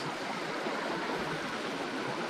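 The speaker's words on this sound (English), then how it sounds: "that's obviously a little barrage they've got there, so it pulls the water up" River water pouring steadily over a small barrage, a continuous broadband rushing roar at constant level throughout, close and even, with no voices.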